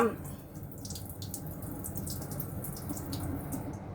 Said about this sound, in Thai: แผ่นปอเปี๊ยะเวียดนาม แล้วก็จะมาล้างผ่านน้ำนะคะ